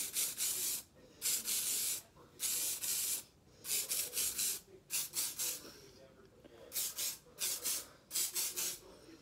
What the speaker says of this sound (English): you're gonna hairspray it, hone it up, and from the bottom